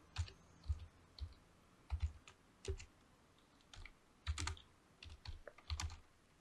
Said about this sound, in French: je vais saisir au clavier, ouvrir le parenthèse, ouvrir les guillemets